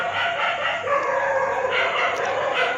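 At night, a dog gives repeated drawn-out barks and yelping howls that rise and fall over a steady background, heard from a moderate distance.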